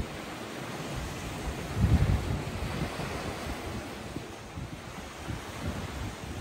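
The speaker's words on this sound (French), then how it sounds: "Dès que j'entends le son de l'eau aussi, c'est beau." Sea waves wash steadily onto a beach in Spain or Sète, a continuous broadband surf roar with a swell around the two-second mark, mixed with wind buffeting the microphone, with no voices.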